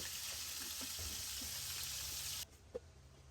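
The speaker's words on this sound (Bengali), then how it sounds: "এই মাংসটা আমি ভাজতে দিয়ে দিলাম" Chicken pieces fry in a pan with a steady, bright sizzle and a few soft clinks and stirring knocks, then the sizzle cuts off abruptly, leaving a quiet pause broken by one small tap.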